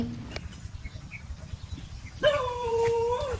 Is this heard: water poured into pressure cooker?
no